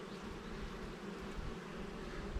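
A dense crowd of honeybees on a hive frame during a queen cell check, giving a faint, steady, continuous buzzing drone with no talk.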